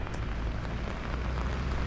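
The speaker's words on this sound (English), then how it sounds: "As you can hear, it was very rainy this day." Rain falls on a wet day in Himeji, Japan, as a steady, even hiss of drops that fills the clip with no voices.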